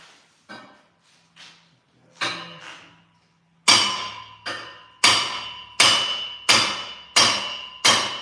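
A heavy 10-pound hammer strikes metal repeatedly, first a few light taps, then about eight loud ringing blows at a steady rhythm, each decaying quickly.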